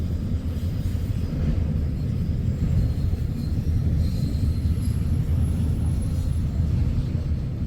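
A long empty coal train rolls steadily past in Greenwich, Ohio, a dense rumble of wheels and cars with faint metallic squeals riding over it, continuous and close throughout.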